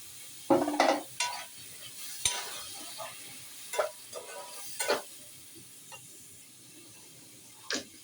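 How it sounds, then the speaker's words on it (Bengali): A spoon scrapes and clicks in a pan of tomato sauce with oregano and soy sauce, stirred in scattered irregular strokes over a faint low simmer, close and fairly quiet. "অরিগানটা দিয়ে নাড়া দিয়া এই যে টমেটোটা দিই। এখন এইটা সস বানাই নেব।"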